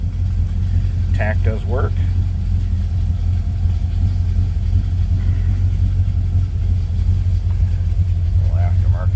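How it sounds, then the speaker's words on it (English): A 1963 Chevrolet Nova SS engine idles steadily with a deep, even rumble throughout, close by, while someone speaks briefly over it. "We'll start this up. See how easily it starts, like I said."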